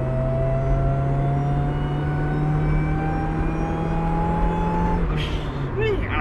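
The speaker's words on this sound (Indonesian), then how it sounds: "Nih, suara supercharger nih." A steady high supercharger whine rides over a constant engine drone from a supercharged Honda Jazz GE8 climbing uphill, rising slightly in pitch as it pulls, close and fairly loud throughout.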